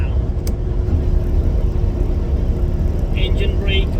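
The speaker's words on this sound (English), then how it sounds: "Engine brake is on right now on the first setting, but it's not that loud." Detroit Series 60 14-liter truck engine running with its engine brake on the first setting, a steady low rumble throughout with faint chirps near the end; speech is present over it.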